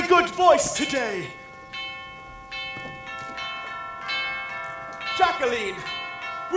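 Notre Dame church bells ring with sustained metallic tones, strong clanging strikes at the start and again near the end while the ringing hums in between; a voice talks over it.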